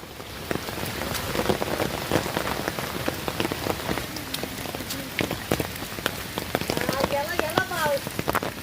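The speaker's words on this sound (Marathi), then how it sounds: "आता पाऊस पडतोय" Rain falls steadily in a forest, pattering on leaves and the ground, with dense irregular drips throughout and a faint voice-like sound near the end.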